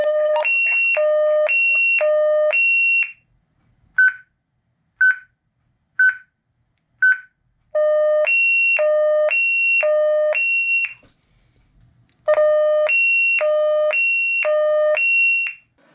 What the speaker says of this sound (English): I'm going to go ahead and skip to the alarm going off.